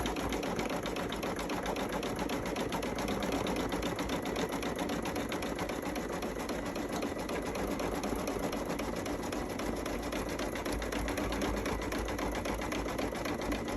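A sewing machine stitches steadily through thick fabric, a continuous close, rapid mechanical chatter of the needle at an even pace for the whole stretch with no talking.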